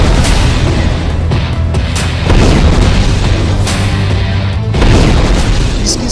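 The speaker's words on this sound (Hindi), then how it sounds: "इसकी सबसे बड़ी वजह यह ब्लास्ट है, यह धमाका" Heavy blasts and booms during wartime in Beirut, Lebanon: loud, rumbling detonations with sharp repeated onsets and a continuous roar of debris and chaos in between, dense and overpowering throughout.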